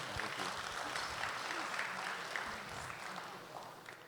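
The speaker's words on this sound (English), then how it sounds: "So help me welcome him with a round of applause, please." An audience at a goodwill message event gives a welcomed guest a sustained round of applause, dense steady clapping that fills the room and fades slightly toward the end.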